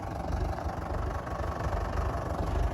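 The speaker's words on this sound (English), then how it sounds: "So we're getting our tractor in position." A Fordson Major tractor engine idles steadily nearby, a low, even rumble with a faint knocking pulse and no talk over it.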